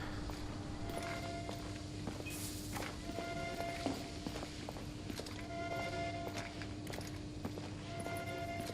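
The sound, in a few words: footsteps in video game The Order: 1886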